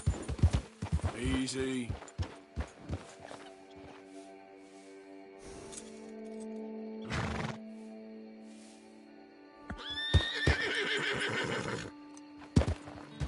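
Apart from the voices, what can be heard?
horse galloping and neighing in the video game Red Dead Redemption 2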